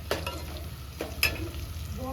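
Spice tempering for a brinjal and potato curry frying in hot oil, with a soft steady sizzle broken by a few sharp stirring scrapes, close and fairly quiet.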